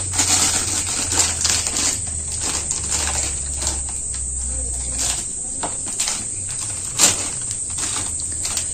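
A 10-taka plastic packet of semolina (suji) is cut open up close, making crisp crinkling and snipping clicks. One sharper crackle stands out near the end, and no one talks.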